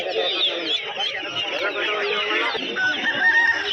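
Fighting cocks at a busy village livestock market, their clucks and crowing calls mixed into a dense, continuous crowd of voices and market bustle.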